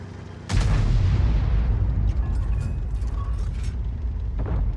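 Artillery shell fired from an E 100 heavy tank in a tank video game: one sharp, booming shot followed by a long low rumble and mechanical clanks, loud and up close with no speech.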